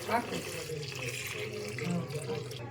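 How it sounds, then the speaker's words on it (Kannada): Water pouring steadily into a pot of village-style mutton head sambar, a continuous splashing rush from start to end while a voice speaks over it. "ಈಗ ನೀರು ಎಷ್ಟು ಬೇಕೋ ಅಷ್ಟು ಸೇರಿಸ್ಕೊಳ್ಳೋಣ"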